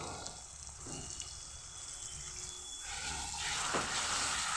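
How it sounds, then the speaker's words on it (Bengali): Water splashed into spices frying in a pan for a spicy parshe fish curry, a steady pour and hiss that swells into a louder, rushing sizzle near the end, close and without speech. "অল্প করে প্রথম পানি দেবো"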